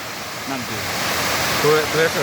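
At the tenth step of Khoiyachhora waterfall in Mirsharai, rushing water makes a steady, loud roar throughout. People can be heard talking briefly under it.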